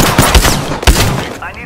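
Apex Legends gunfire crackles in quick bursts, loud and close, with a couple of heavy low thumps mixed into the rapid shots over a brief span.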